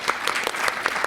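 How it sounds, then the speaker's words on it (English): A short burst of steady applause from a lecture audience after a talk on trade wars and tariffs, dense clapping of moderate loudness with no voices on top. "Let's give her a final round of applause."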